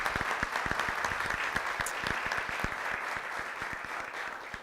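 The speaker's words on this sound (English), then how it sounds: "give them a round of applause, please" A room full of people applauds the McLaren healthcare team at a chamber of commerce community event, with dense, even clapping and some distinct individual claps standing out near the front.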